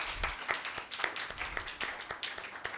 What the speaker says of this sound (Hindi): दाऊद के लिए जोरदार तालियां